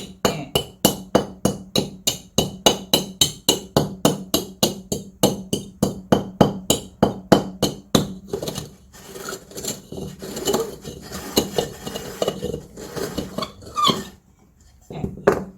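Rapid, regular tapping against the side of a very thin terracotta pot during repotting of a Walkeriana orchid, steady hollow knocks for about eight seconds, then scraping and rubbing of soil and pot, with no talking.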